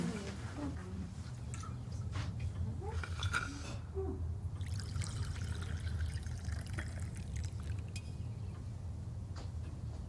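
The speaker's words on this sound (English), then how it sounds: "Have some water, Scott" Water pours into glasses for drinks as a soft, faint trickle that comes and goes, with light clinks and handling noises and a voice speaking quietly nearby.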